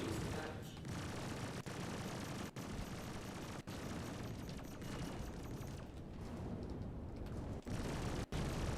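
Heavy size 7 cannon fire in Star Citizen pounds against a ship amid a constant roar of combat, with rapid gunfire bursts and a few brief sharp dropouts between impacts.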